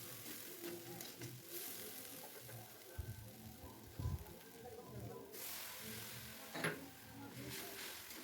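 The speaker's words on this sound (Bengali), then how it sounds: "ভেজানো মুসুর ডালটা ওতে অ্যাড করে ভালো করে কিছুক্ষণ কষিয়ে নেব" Soaked red lentils fry with green chili paste and turmeric, a quiet, even sizzle punctuated by occasional clacks and scrapes of stirring, with faint voices in the background.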